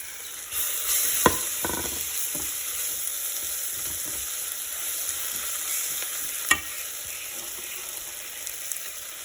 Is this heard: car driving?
no